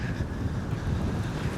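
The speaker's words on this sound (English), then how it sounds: "it's real windy now" Strong wind buffets the microphone in an open cemetery at Port Stanley, Ontario, a steady loud roar of rumbling gusts with no talk.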